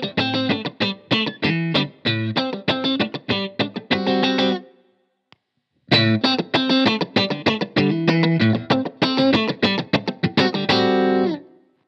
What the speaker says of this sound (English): this JHS 3 series compressor definitely goes, you know, kind of spanky and super compressed